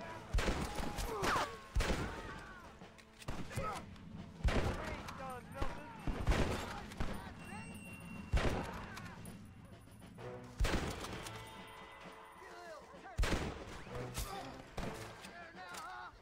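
Repeated gunfire in a Red Dead Redemption shootout, sharp bursts of shots and volleys spread across the whole stretch at close range, with speech mixed in between the shots.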